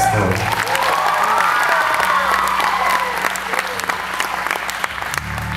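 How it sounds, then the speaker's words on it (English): Audience clapping fills a church-style concert hall, a dense steady ovation that swells and carries on for several seconds at full strength, with a few cheers mixed in. "You can clap for that story."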